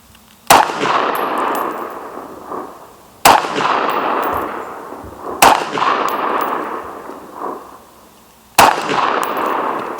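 Rifle shots striking steel targets at a range, four sharp loud cracks with a ringing metallic clang and decaying echo after each, spaced a few seconds apart, with no talking.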